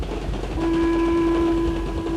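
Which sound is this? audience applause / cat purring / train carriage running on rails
train carriage running on rails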